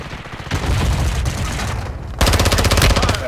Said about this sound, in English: That shot from the window.